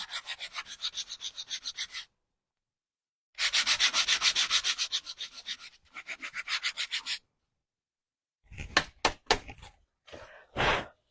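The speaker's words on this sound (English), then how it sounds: "And this is where you just sand it." Hand sanding of a small wooden DIY Christmas snowman sled, quick rhythmic back-and-forth rubbing strokes in close bursts with pauses between, ending in a few sharper scrapes and taps.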